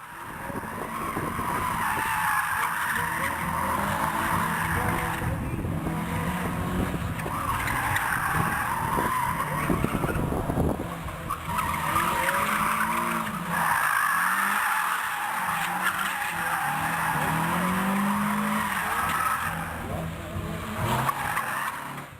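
A Mazda MX-5 skids at a car show, its tires squealing in repeated long screeches over engine noise and a crowd, heard at moderate distance in waves across the run.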